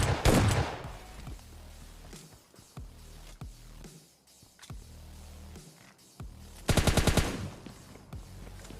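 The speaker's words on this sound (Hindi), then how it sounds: "यहाँ पर से गन साउंड आ रहा था" Gunfire in PUBG Mobile Lite, with a loud rapid automatic burst at the start and another near the end, separated by scattered single shots and quieter game sounds.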